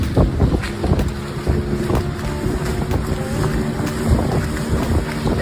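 Wind buffets a microphone over a fishing boat's steady engine drone and splashing sea water off Mandalika beach, with scattered knocks and thumps throughout.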